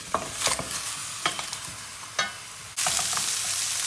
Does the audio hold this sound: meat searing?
yes